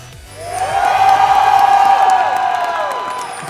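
Esports arena crowd at a KT Rolster B versus Gambit Gaming exhibition final, cheering and whooping in a loud, sustained roar that swells after a brief quiet start and holds steady.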